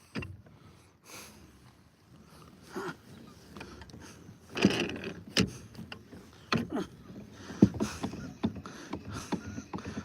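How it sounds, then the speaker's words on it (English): A fishing reel clicks and whirs in irregular bursts as line is wound in from a kayak on the water while trolling, with soft splashes and handling knocks close by. "But we got to get this one reeled in."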